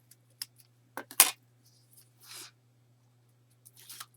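Scissors cutting material to taper the sides of a handmade travel box, giving a few sharp close snips and short rustling cuts spread out across quiet pauses.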